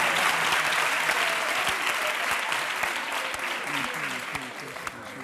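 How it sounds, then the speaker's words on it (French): Studio audience on a French TV talk show claps steadily in a broad, dense wash of applause, with voices faintly mixed underneath as the clapping gradually eases. "Applaudissez pour vous, messieurs."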